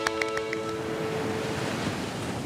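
Ocean waves wash steadily onto a beach in a soft, continuous rush of surf with some wind, heard alone at moderate distance after a few faint tonal chimes at the start.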